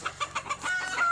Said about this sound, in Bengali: এটা হচ্ছে আমাদের দেশি মুরগির সেট আপ।